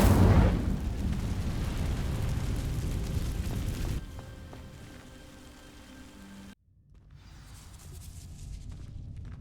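The Incendio fire spell cast in Hogwarts Legacy: a loud roaring burst of flame with crackling rush that dies down in stages, then goes quiet before a faint hiss returns.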